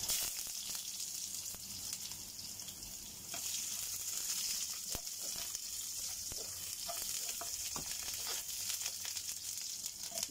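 Sliced onions sizzle steadily in a kawali frying pan, a continuous soft hiss with faint scraping, no voices.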